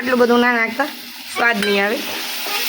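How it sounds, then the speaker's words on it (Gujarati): A spoon stirs spicy food with water in a cooking pot as sev is about to be added, giving soft scraping clicks under a woman's close, clear talk. "મમ્મી આ તો હલાવતા જાઓ એન્ડ મિક્સ ઇન મિક્સ"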